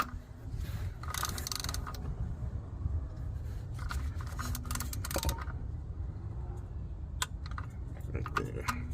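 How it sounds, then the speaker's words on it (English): A torque wrench ratchets and clicks while tightening transmission insert bolts to 15 foot-pounds on a C7 Audi A6 3.0T. The quick, light clicking comes in bursts over a steady low background hum. "you're going to take your torque wrench and you're going to torque these to 15 foot-pounds"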